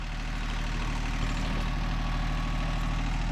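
A tractor engine idles in a steady, rumbling drone during land clearing, constant and close with no talking over it.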